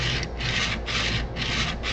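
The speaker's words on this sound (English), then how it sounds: "we're going to keep it flat against the sharpening stone, apply pressure to the edge, and we're just going to go back and forth with it" A woodworking tool edge is pushed back and forth flat on a 300-grit sharpening stone, giving steady rhythmic rasping strokes, about four close, even passes with brief pauses between them and no talking.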